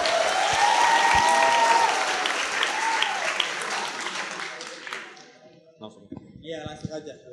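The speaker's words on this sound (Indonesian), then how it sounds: "tepuk tangan dulu dong biar gak grogi dong" Applause from an audience at a state-defence education event, with people speaking over it; loud and dense for about five seconds, then fading to scattered claps and voices.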